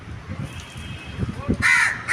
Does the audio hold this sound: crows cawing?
yes